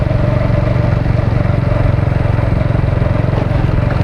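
Motorcycle ridden at steady speed after sitting unused for several days, its engine chugging loudly and continuously close by with an even, throbbing rhythm and no talk over it.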